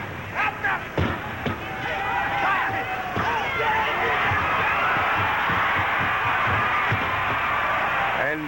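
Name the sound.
wrestling arena crowd noise, Chicago 1950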